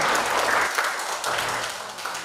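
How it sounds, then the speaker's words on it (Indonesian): A class applauds after a student group finishes presenting, a dense, moderately loud round of clapping that stays fairly even for about two seconds before easing slightly. "Oke, tepuk tangan untuk kelompok 4 ya."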